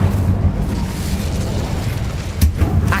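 The Incendio fire spell cast in Hogwarts Legacy, a loud whooshing burst of flame with a rumbling low boom, followed by a couple of sharper crackling pops.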